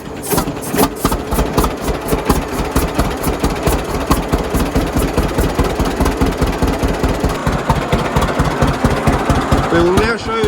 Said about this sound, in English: I will turn the choke off and then crank it till it starts